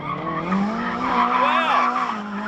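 Nissan 180SX drifting on a track lap, tires squealing continuously with wavering pitch over engine roar, loud and close, with a voice commentating over it.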